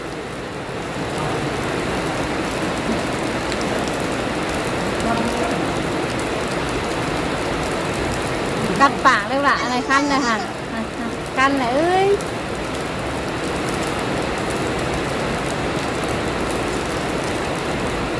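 Rain pours steadily in a continuous close hiss, with a voice breaking in briefly over it midway before the downpour carries on alone.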